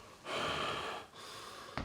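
A person imitates heavy panting with a single long, breathy exhale-like gasp followed by a quieter continued breath and a short sharp intake at the end, close and alone without talk.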